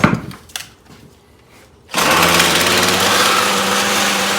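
A Ryobi string trimmer engine, just repaired at the shaft, roars to life after a few quiet clicks and handling noises, then holds a loud, steady high-pitched buzz at close range.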